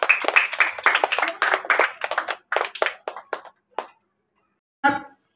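Students clap their hands at a school Teachers' Day event, a dense burst of sharp overlapping claps that thins into a few scattered claps, stops briefly, then resumes with a short clap and a voice near the end.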